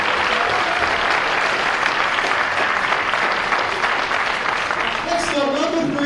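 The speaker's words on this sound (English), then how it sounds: "One last round of applause for Andrew's family." Loud, dense applause fills a high school boys basketball gym during a senior night family recognition, a continuous roar of clapping with crowd noise, and a voice emerges near the end.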